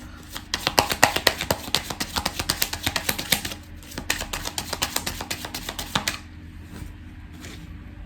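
Oracle cards from a Jardin des Secrets deck are shuffled and drawn, a dense run of quick papery riffles and flicks for about six seconds, close and fairly loud, then fading to quiet with a couple of soft taps.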